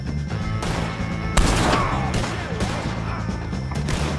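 Gunfire against the O'Driscolls in Red Dead Redemption 2, dense rapid shots and crashing impacts layered over a constant rumbling game score, loud and busy throughout with a sharp burst near the middle.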